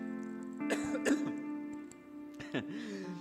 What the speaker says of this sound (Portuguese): Vou tossir.